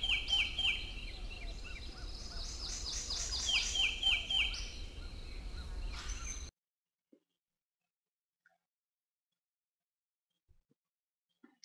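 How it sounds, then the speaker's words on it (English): A looped bird chirping effect from a golf game course soundtrack, repeated bright chirps over a busy background of insects and ambience for about six seconds, then cutting to near silence. "you can hear this chirp, chirp, chirp, chirp every couple of seconds"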